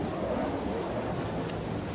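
Steady rain falling in Star Wars Jedi Fallen Order, a continuous even hiss of downpour with no breaks, moderately loud and unaccompanied by speech.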